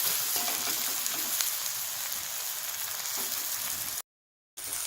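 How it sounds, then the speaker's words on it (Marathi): Tomatoes sautéing and being stirred in a pan for misal, a steady close sizzle and hiss with faint scraping, cut off by a brief moment of silence near the end. "टोमॅटो अगदी मऊ झाला पाहिजे तोपर्यंत परतायचं आपल्याला आणि हलवत राहायचंही सारखं"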